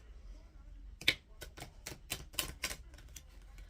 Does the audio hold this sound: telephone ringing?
no